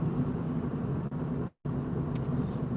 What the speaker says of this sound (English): That noise you can hear, by the way, is the blue transit van